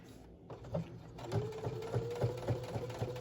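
A sewing machine stitches in the ditch along the binding of a Christmas quilted mug rug, its soft needle thumps settling into a quick, steady rhythm after a brief pause, close and quiet.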